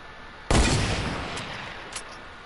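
A single loud gunshot from the video game Fortnite bursts out sharply and decays over about a second, followed by a couple of faint, brief later pops.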